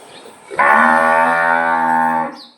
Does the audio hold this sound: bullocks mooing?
yes